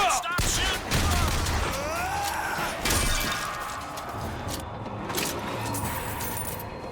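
Gunfire in BioShock Infinite: a burst of close, sharp shots with clattering, shattering debris and metallic jingles, followed by further scattered shots and impacts over a busy game background.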